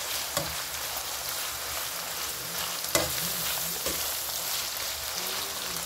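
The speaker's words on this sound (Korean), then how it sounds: "지금 기름이 여기 고기에서 많이 나와서 이렇게 맛있게 볶여지고 있습니다" Australian wagyu beef pieces fry in their own rendered fat, giving a steady close sizzle with occasional clacks of a utensil stirring the pan and no talking.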